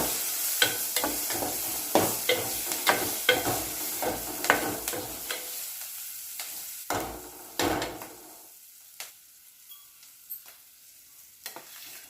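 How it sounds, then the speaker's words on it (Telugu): Chopped budama kaya pieces with onion and green chilli are stirred in a pan, a close, rhythmic series of spatula scrapes and knocks over a light sizzle that thins out and becomes sparse, quiet taps toward the end. "కట్ చేసిన బుడంకాయ ముక్కలు వేసుకొని మొత్తం కలిసేంత వరకు కలుపుకోవాలి"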